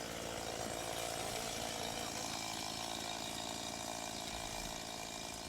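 Chainsaw running continuously beside a river in Bali during a clean-up of plastic waste, a loud, steady buzzing drone throughout with a faint voice beneath.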